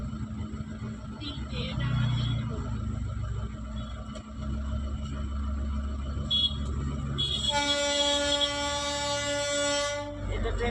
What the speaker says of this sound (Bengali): এটা ট্রেনের আওয়াজ।